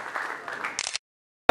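Applause for Corinthians coach Mário Travalli at a ceremony honoring Democracia Corintiana, a short burst of clapping after a voice, then silence and a sudden loud restart at the end.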